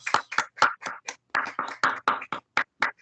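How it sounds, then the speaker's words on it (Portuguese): A crowd at a religious gathering claps steadily in a quick, uneven rhythm, the applause sharp and fairly close with no voices over it. "As nossas palmas a Jesus."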